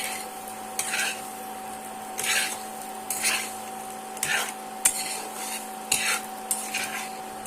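Spiced potato slices fry over medium heat while a spatula flips them repeatedly, giving roughly six to seven distinct scraping strokes against the pan over a soft, steady sizzle, close and without speech.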